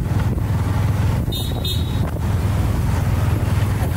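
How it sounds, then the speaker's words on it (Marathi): A car horn toots briefly twice on a road, partly buried under steady wind buffeting and low traffic rumble. "हॉर्न मारना चालू कर दिए"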